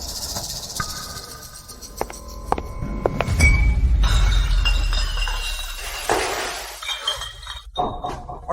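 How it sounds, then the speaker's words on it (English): A champagne cart crashes at a wedding, glasses shattering with a sharp burst of breaking glass followed by tinkling, ringing shards and clinks scattering across the floor, loud and close. "Crashing the champagne cart into my wife?"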